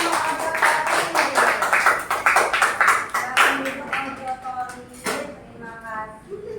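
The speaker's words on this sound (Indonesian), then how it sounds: "Tepuk tangan buat kelompok auditori" Classroom applause for a student group after their presentation, a burst of hand claps from a small group of children and a teacher lasting several seconds, close and lively, then tapering off as a voice begins.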